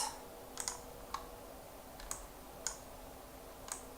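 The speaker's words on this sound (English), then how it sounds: "somebody's typing" Someone typing on a computer keyboard, heard as a handful of sparse, sharp key clicks spaced irregularly over a few seconds, quiet and close against a faint steady background hum.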